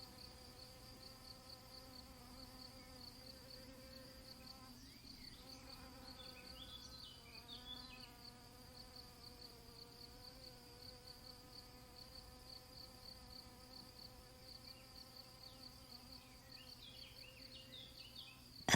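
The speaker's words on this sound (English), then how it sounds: "buzzing bees" A steady, soft buzzing of bees hums continuously, with individual insects drifting closer and away over a quiet background.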